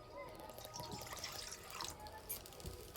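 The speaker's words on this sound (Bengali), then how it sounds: "কড়াইয়ে দেবো জল" Water poured into a karai (cooking pan) on a lit stove, a steady splashing trickle at close range that runs without a break.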